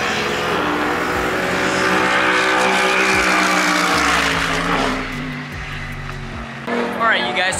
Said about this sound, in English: we're at this really crazy bridge where we're able to basically have the cars passing above us